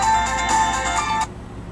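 A phone ringtone for an incoming call plays a loud, bright repeating electronic melody of pulsing tones for just over a second, then cuts off abruptly, leaving a faint background hum.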